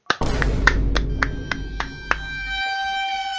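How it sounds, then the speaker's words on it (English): A small group claps briefly in congratulation, a burst of loud irregular hand claps with a few sharp accents, close by, fading out after about two seconds into low background noise. "Congratulate everybody just give him a good clap real quick."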